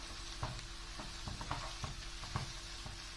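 Mushrooms sautéing in a pan with toasted tomato paste for mushroom bulgur pilaf, a soft continuous sizzle with regular spoon strokes clacking against the pan at a steady pace.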